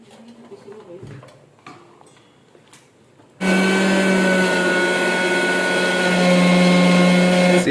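An old electric mixer grinds ginger, garlic and green chili, switching on abruptly after a few quiet clinks and handling sounds into a loud, steady, high-pitched motor whine that runs continuously to the end.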